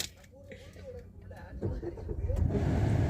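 A car starting to move off as a learner lifts off the clutch, engine rumble building steadily louder and closer over a few seconds while a voice talks over it.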